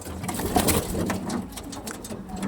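Pure-bred Jamuni Panjab racing pigeons coo softly amid a dense, noisy loft background, with faint bird calls layered over steady rustling.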